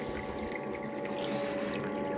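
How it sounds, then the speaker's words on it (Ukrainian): A pump circulates pool water through a heating boiler, giving a steady hum with watery rushing and trickling, continuous and fairly close. "другий насос качає через так званий мій котел для підігріву"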